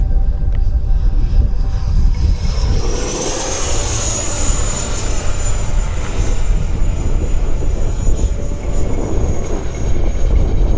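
A Horizon Hobby radio-controlled F-16 model jet flies past outdoors, its loud continuous turbine whine rising and sweeping in pitch over a constant wind-buffeted roar.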